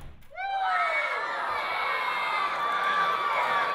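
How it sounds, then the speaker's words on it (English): Children shout and cheer excitedly as a crowd at a science demonstration where something is blown up, a loud, sustained burst of young voices rising together and holding steady. "I like to see the shouts and cheers of excitement as we blow things up."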